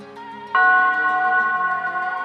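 A bell sound effect rings out once with a bright metallic strike, then sustains a rich shimmering tone that slowly fades, clear and alone.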